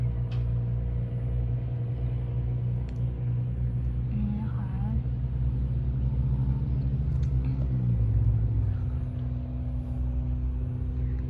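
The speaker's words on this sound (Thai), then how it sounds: "เสียเอ็มขับรถน้ำนะคะทุกคน เห็นไหม มองเห็นกันไหม ไปแล้ว" A water truck's engine drones in a deep, steady rumble, holding constant throughout with a slight pitch shift near the end, while someone talks over it.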